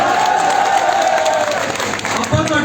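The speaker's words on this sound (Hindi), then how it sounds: "जिकी दयाल तालियां बजाइए, तालियां में कमी ना रखियो" Applause and cheering from a crowd at a village program in Nethrana, a steady loud clatter of clapping under a voice addressing the gathering.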